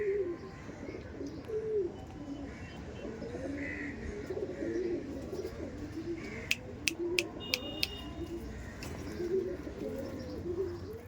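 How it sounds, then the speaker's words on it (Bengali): Several Rampuri pigeons coo in low, rolling, repeated calls throughout, with a few sharp clicks partway through. Nearby and moderately quiet. "আরও সময় দিলে সমস্ত পায়রা ডাক দেবে"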